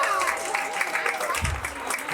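An audience at a university school of performing arts claps, a steady ripple of many hands with some murmuring voices mixed in, moderately loud and continuous over two seconds.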